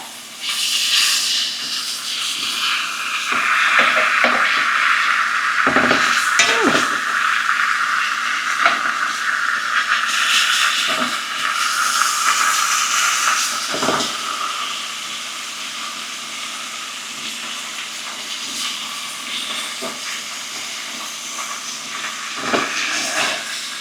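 Steak turned onto its fat side searing on an induction cooktop, giving a steady, close, loud hissing sizzle that eases slightly partway through, with a few soft knocks of handling.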